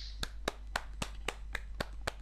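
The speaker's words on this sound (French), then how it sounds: "Applaudissements, s'il te plaît, allez." Hand clapping in steady, evenly spaced claps, about eight over two seconds, close and crisp over a constant low hum, with no talk.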